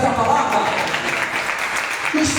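A church congregation applauds in praise during a sermon, a steady broad wash of clapping with some voices mixed in, sustained at a fairly loud, even level for a couple of seconds.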